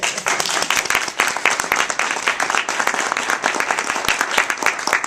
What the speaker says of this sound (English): So let's celebrate that with an applause